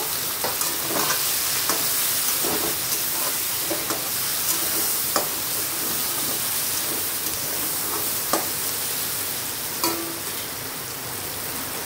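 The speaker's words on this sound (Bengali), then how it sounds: "এখন দেখে নিচ্ছে পেঁয়াজটাকে একটু সুন্দর ভেজে নেব।" Onion frying in a pan sizzles steadily and loudly, with a constant hiss broken by sharp clicks of a spatula stirring.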